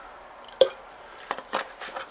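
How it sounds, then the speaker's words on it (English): Pine-Sol cleaner poured into the opened body of a 1963 Royal FP typewriter gives a few soft, wet splashes and drips, quiet and close, with short gaps between. "I'm going to grab my pine sol. I'm going to pour some in there."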